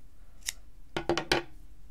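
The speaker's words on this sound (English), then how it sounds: "now we can cut the bottoms. Cut the ends of those." Scissors snip the yarn ends of a tassel made on a Clover tassel maker: one light snip, then a quick cluster of three close, crisp cuts, with no talking.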